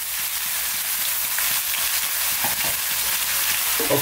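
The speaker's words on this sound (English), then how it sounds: "now I'm going to go in with those fresh tomatoes cut and that one can or one tin" Fresh tomatoes and a tin of plum tomatoes land in a pot of vegan bean and veg stew with chickpeas, dill and garlic, setting off a loud, continuous close sizzle broken by a few soft stirring knocks.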